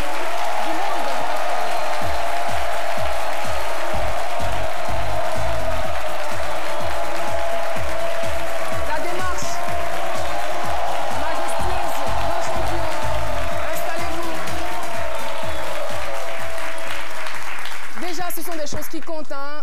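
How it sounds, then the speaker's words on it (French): A television studio audience breaks into loud, sustained applause for an arriving guest, with rhythmic clapping and music underneath that fades toward the end. "Je voudrais qu'on l'applaudisse très très fort"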